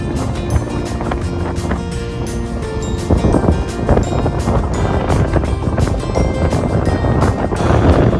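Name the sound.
sea waves and cool wind on Puri beach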